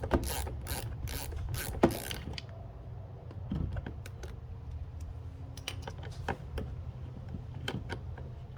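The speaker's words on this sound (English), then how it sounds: "They are T25 screws, and you can just unscrew that out." A screwdriver works loose the T25 Torx screws holding a fog light on a 2010 Audi B8 S4, with quick ratcheting clicks early on, then scattered small taps and rattles of metal and plastic, close and fairly quiet.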